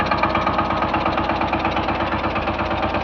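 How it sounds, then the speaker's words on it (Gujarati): A new Captain 200 DI mini tractor with an 895 cc diesel engine runs close up, a steady loud knocking idle with an even, rapid pulse and no talking. "હવે મિત્રો આમાં 895 સીસીનું એન્જિન આવે છે"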